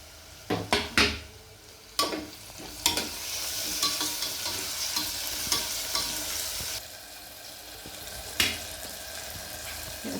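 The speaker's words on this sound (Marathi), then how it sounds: "कांदा चांगला परतलाय तर आता हे टोमॅटो घालते" Onion and tomato sizzle steadily in a hot pan, with several sharp clinks and scrapes of a utensil stirring against the metal near the start.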